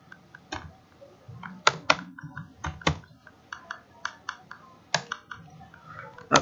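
Typing on a computer keyboard comes in irregular bursts of crisp, close key clicks, with short pauses and a few louder strikes, with no voice heard.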